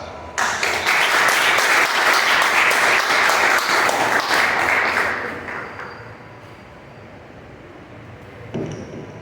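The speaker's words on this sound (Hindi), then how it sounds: "आपकी भरपूर तालियों में Ms. Sarah" Congregation applauding at a church worship gathering, a dense burst of clapping that holds steady for about five seconds, then fades into a lighter patter and room murmur before a brief final clap.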